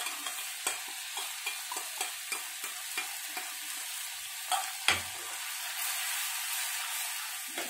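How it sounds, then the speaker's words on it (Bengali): Mustard and raw mango paste sautéed in a pan for fish curry hiss softly as a spoon stirs and scrapes in a steady rhythm, close by, followed by a louder knock and a fuller sizzle. "একটু ভালো করে কষিয়ে নেব।"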